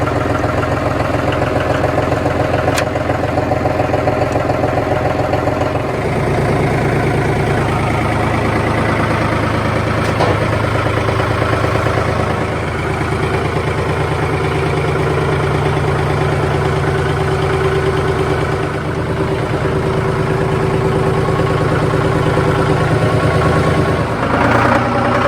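A John Deere 5003 series tractor engine idles continuously with a constant low rumble and faint mechanical hum, close by, with no talking.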